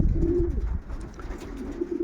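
Domestic pigeons kept by a Polish fancier coo in a loft, with low, rolling calls that repeat steadily and close by for the whole stretch, and no talk over them.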